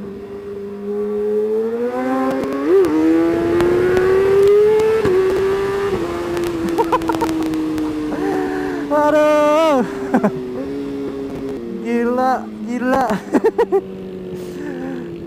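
A 2019 Kawasaki ZX-636R sport bike engine droning steadily while riding, pitch climbing and dipping through quickshifter gear changes with sharp revving bursts, as a man exclaims over it.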